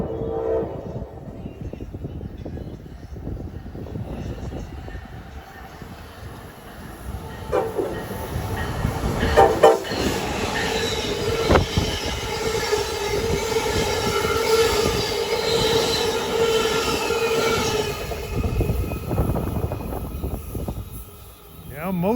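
Amtrak train 176, bound from Washington to Boston, rumbles past in North Philadelphia, a steady loud roar of rail cars and wheel clatter building through the clip, with brief horn-like tones and some background voices.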